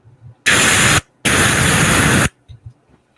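A voice imitates white-noise static with two loud, harsh hissing bursts, the first short and the second longer, separated by a brief gap and followed by faint murmuring.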